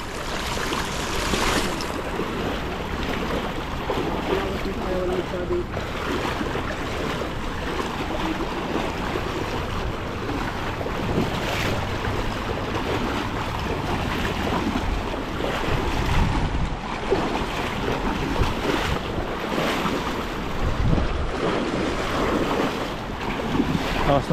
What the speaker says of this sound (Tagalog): Agos po rito. Grabe.